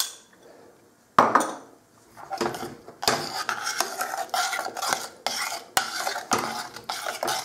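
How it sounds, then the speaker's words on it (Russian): Butter being stirred into a melted glaze mixture with a utensil scraping the pot, repeated scraping strokes in a steady rhythm, close and clear with no talking. "хорошо опять перемешиваю."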